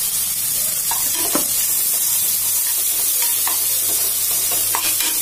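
Onions and green chillies sauté in a pan for mint biryani, a steady loud sizzle with occasional scraping stirs of a spoon throughout.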